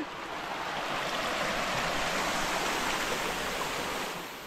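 Water rushes over the top section of the Jharnakocha waterfall in a loud, continuous, steady roar heard up close.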